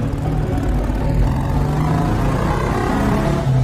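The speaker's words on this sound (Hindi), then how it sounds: "ये गाड़ी की आवाज कैसी है, लगता है कोई आ रहा है" A car engine drones steadily and fairly loud as the vehicle arrives, a low continuous rumble heard alone without speech.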